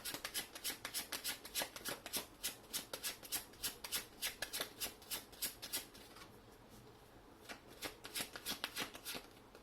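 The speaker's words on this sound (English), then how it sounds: "Let me get one more card for clarification." A deck of tarot cards is shuffled again and again, with close, crisp riffling bursts in a quick rhythm, a short pause in the middle, then more shuffling, all quiet and with no talking.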